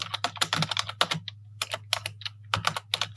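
Rapid, close keystrokes on a computer keyboard as a search is typed into Canva, coming in quick clusters with short pauses between bursts.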